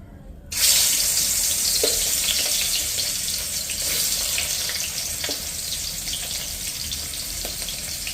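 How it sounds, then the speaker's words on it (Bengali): A tap bursts on abruptly and then runs in a steady, close rush as aar fish are rinsed beneath it, with faint occasional splashes and handling sounds, no voices. "এই যে দেখো মাছগুলি ধুয়ে ধুয়ে রাখছি"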